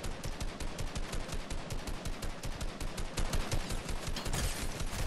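Rapid automatic gunfire and sniper shots from the video game Fortnite crackle in a dense, continuous volley. The bursts are fast and steady, with no talking over them.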